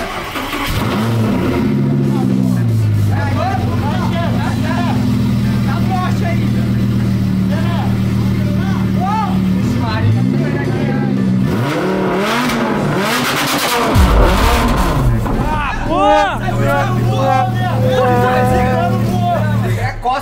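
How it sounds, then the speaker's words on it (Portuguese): A Lamborghini engine with a balloon stretched over the exhaust revs hard and loud, its pitch rising and falling in repeated surges, while excited people shout and talk over it. "Liga essa Lamborghini pra nós ver!"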